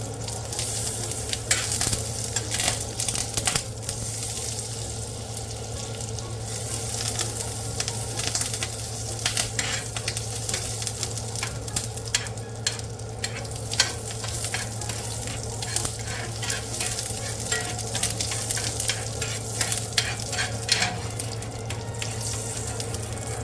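Butter sizzles steadily in a hot pan while cooking onion steak at home, a continuous close frying crackle with scattered sharper pops and a low hum beneath, no talking.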